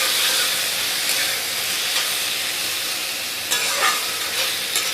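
Boiled chickpeas and potatoes fry in a pan for chickpea ghugni curry, giving a steady close sizzle and hiss broken by a few brief scraping stirs.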